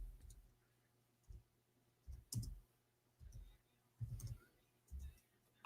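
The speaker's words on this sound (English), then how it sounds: "I'm typing in English." Scattered keyboard clicks come in short bursts, separated by gaps and set against a quiet room with a faint steady hum.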